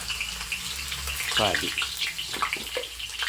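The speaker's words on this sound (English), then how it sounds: "the oil I heat up already lah. So what you need to do is the ginger let it fry a bit" Ginger strips sizzle and crackle in hot oil in a wok, a steady faint frying hiss with a few sharper bursts, while someone talks over it.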